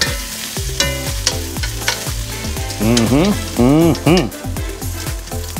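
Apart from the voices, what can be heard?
ribeye steak frying in a pan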